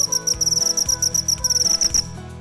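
Several crickets trill in rapid, steady pulsed bursts, bright and close, repeating without pause over a faint low background.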